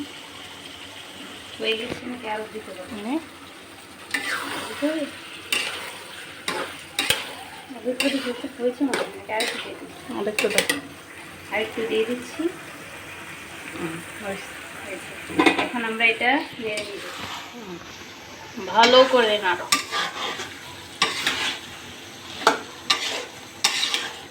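Chickpeas tipped into a pan and stirred, with scraping spoon clatter against cookware and faint sizzling in irregular bursts, while people talk throughout.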